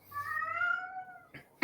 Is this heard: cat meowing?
yes